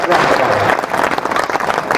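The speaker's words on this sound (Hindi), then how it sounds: "जोरदार तालियों के साथ स्वागत कीजिएगा" Dense applause from a large audience at a poetry gathering at Kotdi Shyam Darbar fills the whole clip, steady and loud with a crowd murmur underneath.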